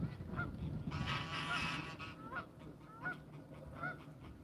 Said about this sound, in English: Got the old geese in the background.